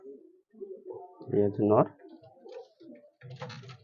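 A male Phulshira line pigeon gives a short, loud throaty coo up close, set among a man's speech and handling noises.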